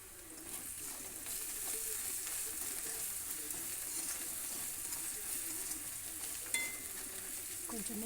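Food sizzles steadily in a hot pan with cumin powder added, browning over a continuous, moderately loud crackle with occasional stirring scrapes and one brief clink near the end.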